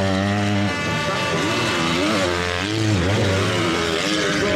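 KTM MX2 motocross bikes race at a Grand Prix in Mantova, their loud, continuous high-pitched engine whine rising and falling as riders rev and shift. The roar stays close and dominant throughout.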